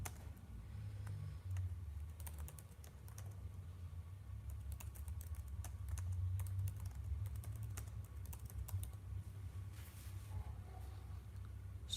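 Someone types on a computer keyboard at close range, producing quiet, irregular clicking keystrokes in bursts over a low background hum.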